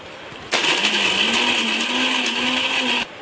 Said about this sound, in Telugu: నేతిలో వేయించుకొని జీడిపప్పులని బాదం పప్పులని బాగా మెత్తగా పొడి చేసుకోవాలి